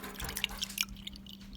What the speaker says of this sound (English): So now, all you do is you put your distilled water